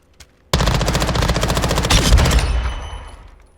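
An MPX-K submachine gun in Modern Warfare II fires without a muzzle attachment, letting off a rapid, loud automatic burst of about two seconds that cuts off sharply, followed by a fading ring.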